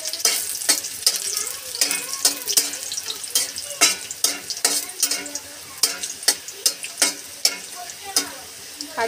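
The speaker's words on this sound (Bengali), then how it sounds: "কড়াইতে ঘি সাদা তেল দিয়ে আমি কাজু কিশমিশটা ভেজে নিই" Cashews and raisins fry in ghee and white oil in a kadai, a close sizzle broken by repeated rhythmic scrapes and clacks of stirring throughout.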